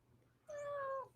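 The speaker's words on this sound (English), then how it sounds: "You goofy cat." A house cat close by lets out a single drawn-out meow, clear and fairly loud against a quiet indoor background.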